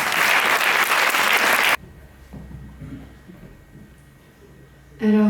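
An audience applauds a performer at a francophone festival, with dense clapping for under two seconds. It stops abruptly, leaving quiet room noise, and another brief burst of applause starts at the very end.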